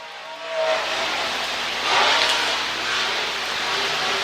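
Tommy Jones's super late model race car, number 31, howls around the speedway on a qualifying lap, a continuous loud engine drone that swells as it passes and stays strong throughout, with no talking.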